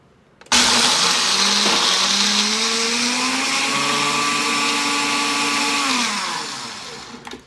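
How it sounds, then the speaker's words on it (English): Single-serve blender blending dates and peanuts into paste, a loud close motor whine that starts abruptly, rises in pitch as it runs for about six seconds, then winds down. "this just twists right onto the single serve blender cup, and then we're going to just blend this into a paste"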